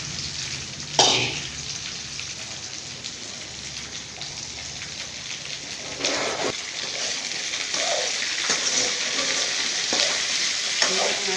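Okra sizzles as it is sautéed in a pan in a home kitchen for lunch. A steady frying hiss is broken by a couple of louder utensil scrapes and stirs, and nobody speaks.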